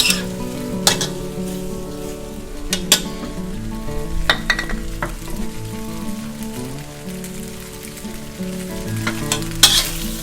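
Loud, steady sizzle of macaroni and sausage being stir-fried in a hot pan, with occasional sharp scrapes and clinks of the utensil against the pan running through the continuous frying hiss.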